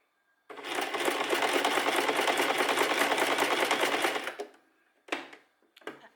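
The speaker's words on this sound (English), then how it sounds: "just do a little back stitch" A sewing machine stitching fabric weights: one steady, loud run of rapid needle clatter lasting about four seconds, followed by two short bursts of stitching, close and with no voices.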